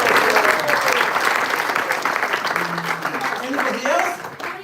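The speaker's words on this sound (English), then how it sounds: "Applause for her also." An audience at an evening celebration and drama event claps steadily, with a few voices calling out faintly beneath the applause.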